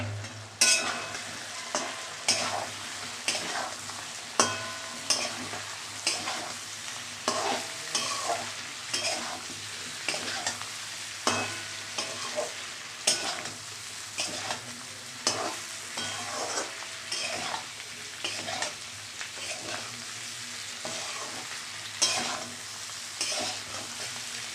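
Chhana bora, cottage cheese fritters, fry with sautéed potatoes in a pan, giving a steady sizzle broken by regular spoon scrapes and stirring knocks, close and unbroken, with no voices.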